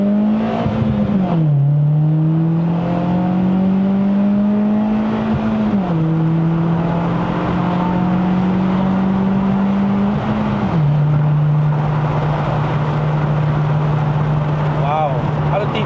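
A Mitsubishi Lancer Sportback with a 2.4L engine and five-speed manual accelerates hard on a climb, its engine note rising steadily through the gears with clear drops at each shift. Occupants talk excitedly over the loud, close engine drone.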